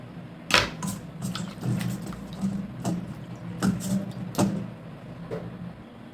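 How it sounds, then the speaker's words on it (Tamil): Tomatoes are washed by hand in a bowl of water, giving a series of short splashes and knocks as they are handled, close up and with no talking. "ஃபஸ்ட்டு ஒரு தண்ணியில் வந்துட்டு கழுவிக்குவோம் தக்காளி இதெல்லாம் கழுவிக்குவோம்"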